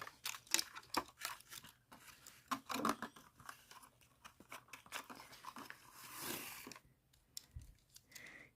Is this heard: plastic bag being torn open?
yes